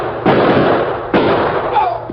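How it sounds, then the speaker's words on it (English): Gunshots ring out in a western radio drama, two sharp loud bangs about a second apart with a fainter third report, each trailing off in a short echoing decay. "Shots come from clump of trees to left."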